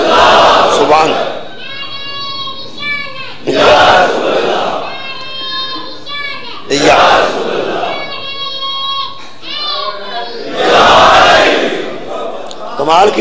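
A large crowd at an imambargah gathering chants the Nara-e-Takbir slogan in loud, rhythmic call-and-response bursts about every three and a half seconds, a voice leading each round between the massed shouts.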